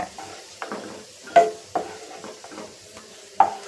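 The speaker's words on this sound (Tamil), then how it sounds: "இப்போது திராட்சையெல்லாம் பொரிச்சு எடுத்தாச்சு" Raisins fry in hot oil in a pan for a mandi dish, a soft sizzle broken by a few sharp stirring scrapes and clinks of a utensil against the pan, close and without talk.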